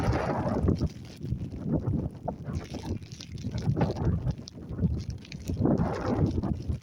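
Gusty wind on the open moorland of Walshaw and Lancashire Moor buffets the microphone in uneven, rising and falling rushes, fairly faint overall.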